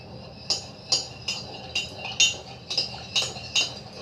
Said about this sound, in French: avec la cuillère, vous allez mélanger le tout